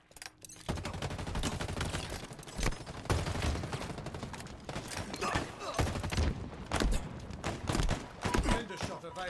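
Cinder shot fire in Halo Infinite comes as dense bursts of sharp, loud blasts and thuds in rapid irregular succession, close and punchy over continuous battle noise.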